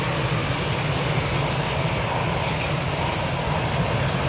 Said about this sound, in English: we've got a Dreamliner coming out over here